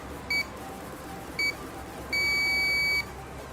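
A training session timer beeps electronically: two short beeps a second apart, then a longer sustained tone of almost a second, clear over faint background hiss.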